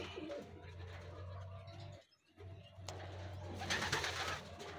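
Racing pigeons coo softly at a loft as they return from a race in Rosario, La Union, with a steady low hum beneath, a brief dip in the middle, and rustling and flutter toward the end.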